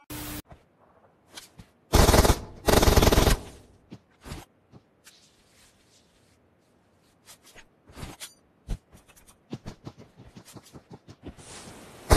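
Gunfire in the battle royale game PUBG: a loud automatic burst, then scattered single shots and short bursts at varying distances over quieter game ambience.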